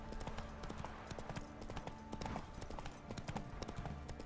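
Horse hooves galloping in The Witcher III, a steady, rhythmic clip-clop that runs close and continuous through the whole stretch over low game ambience.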